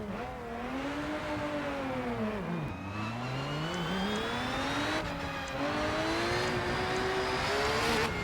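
A race car engine in the RennSport racing game drones steadily, with its pitch climbing through the revs, dropping sharply at a gear change and rising again, loud and continuous with no voices.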